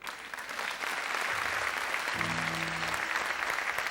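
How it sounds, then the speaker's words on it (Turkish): Studio audience on a Turkish TV talk show applauding the house band, a thick continuous clapping with a few sustained band notes sounding underneath midway. "bir alkış rica ediyorum"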